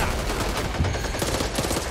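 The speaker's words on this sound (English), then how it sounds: "Ah, I just shot him again!" Rapid gunfire from the zombie shooter Back 4 Blood, played on the Veteran campaign, rattles on continuously as a dense, loud burst of overlapping shots with no talk.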